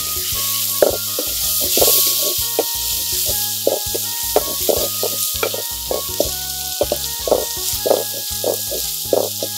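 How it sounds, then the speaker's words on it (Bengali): Onion, chili, garlic and dried knife fish frying in hot oil, a steady close sizzle punctuated by repeated scraping stirs, with no talking. "পেঁয়াজ মরিচ আর রসুন, তারপরে শুটকি মাছ দিয়ে একটু ভেজে নিন"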